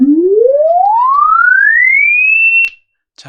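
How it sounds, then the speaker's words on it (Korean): A single siren tone rises steadily and smoothly from low to high over a couple of seconds, loud and alone, then cuts off abruptly. "자, 사이렌 울립니다."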